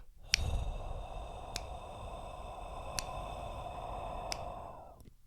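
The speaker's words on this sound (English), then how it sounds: "inhale deeply through your nose for 3 seconds. Hold the breath. And then exhale slowly through your mouth." Slow, deep breath exhaled through the mouth during a relaxation exercise, a soft continuous airy rush lasting several seconds at close range, with faint regular ticks underneath.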